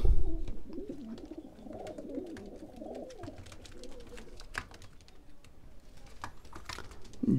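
Pigeons at a breeder's loft coo and murmur close by, their soft calls layered over light tapping and clattering sounds.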